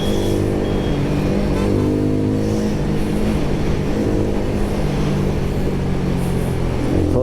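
Royal Enfield Guerrilla 450 motorcycle riding at speed in third gear, its steady engine drone and harmonic hum running continuously with wind rush, no talk.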